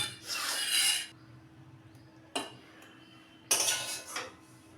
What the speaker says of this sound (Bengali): এখন আমি এটার মধ্যে শিমগুলো নিয়ে নেব